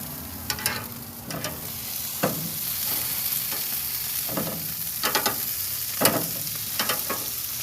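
Chicken sizzling on a grill right after being flipped: a steady frying hiss with scattered sharp pops and crackles, close and moderately loud, with no voices.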